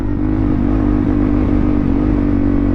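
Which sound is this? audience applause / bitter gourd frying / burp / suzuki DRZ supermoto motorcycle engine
suzuki DRZ supermoto motorcycle engine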